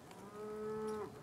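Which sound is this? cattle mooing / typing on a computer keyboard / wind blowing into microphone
cattle mooing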